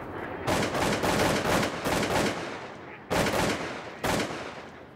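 Shots from a Super X4 shotgun at waterfowl during a hunt in Alberta, several loud booming reports in quick succession with sharp onsets and rolling decays, close and dominant, with faint voices in the background.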